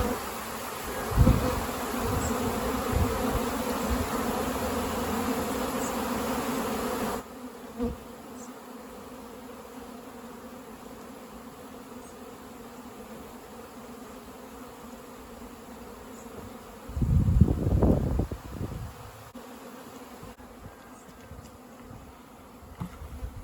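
Native honeybees buzz steadily around a hive during a rescue in Manacor, Mallorca: a dense, close swarm drone that drops to a softer hum partway through, with a louder burst of buzzing near one moment.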